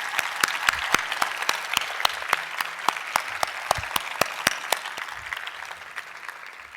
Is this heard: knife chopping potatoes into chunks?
no